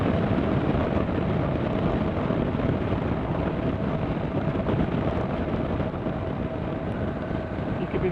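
A 2017 Suzuki V-Strom 650 XT motorcycle climbing a hill in sixth gear, its steady, low engine drone blended with loud, continuous wind rush at the microphone, unbroken throughout with no talking.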